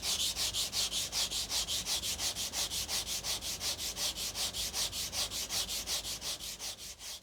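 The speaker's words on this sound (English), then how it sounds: "The bane of any guitar maker's existence is how much sanding you have to do" A wooden guitar body is hand sanded in steady back-and-forth strokes, a close, rhythmic rasping that repeats dozens of times without pause and with no voices.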